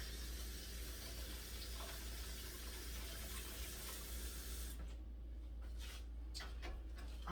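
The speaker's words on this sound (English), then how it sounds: "I'm going to rinse my hand right quick." Running tap water splashes steadily as hands are rinsed under it at a kitchen sink, a quiet continuous wash that turns patchier toward the end.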